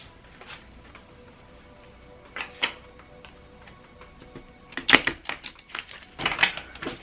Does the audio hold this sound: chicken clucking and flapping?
no